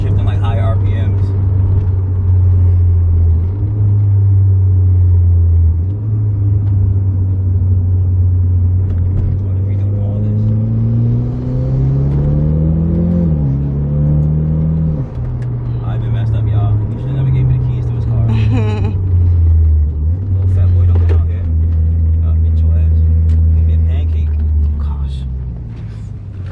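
Mitsubishi Evo X engine revving and pulling through the gears, a loud close drone whose pitch climbs during acceleration and drops at the shifts, with people talking over it.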